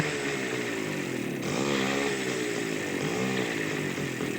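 A TVS XL 50 moped engine runs with a new silencer and back cover fitted, a smooth, steady buzzing idle that revs up briefly twice, heard close and alone.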